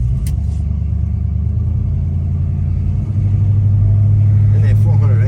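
A 1970 Pontiac Grand Prix Model J with a 400 V8 idles with a deep, loud burble and then rises to a heavier, steadier rumble partway through, close up, with talk over it.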